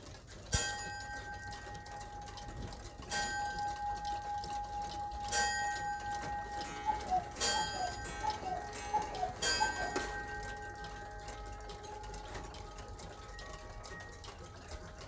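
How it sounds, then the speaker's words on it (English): Old clocks dating from the 1830s, displayed together in Whangarei, tick steadily and close by, while bell chimes and bright bird-like whistling tones ring out over the ticking. "Some really old clocks that date from the 1830s, I think they said."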